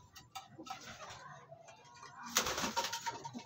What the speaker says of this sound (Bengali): এইখানে দেখুন আন্ধ্রা পায়রাগুলো সব রাখা আছে